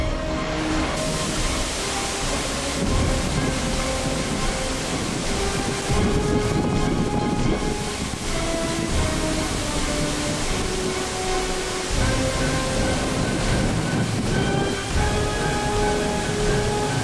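A strong windstorm in Cincinnati and Hebron, Kentucky, in 2008 roars steadily with broad, gusting rushing noise and microphone buffeting, continuous and loud throughout.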